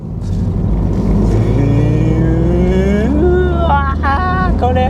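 A Honda CR-Z Mugen RZ in sport mode pulls hard with a loud, rising engine note that climbs steadily, then shifts gear twice in quick succession near the end. The engine is heard clearly from close by.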